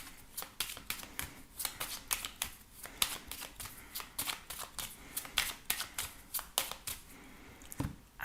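A 32-card deck being shuffled in a rapid run of crisp riffles and slaps, close and clear, with no talk.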